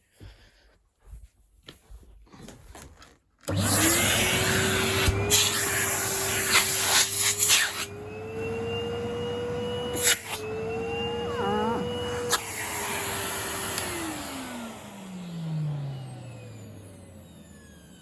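A 2012 or 2013 Henry HVR200A vacuum cleaner, cleaned and repaired with a blown motor that works on high, starts after a few knocks, runs with a loud steady whine, then winds down with a falling pitch.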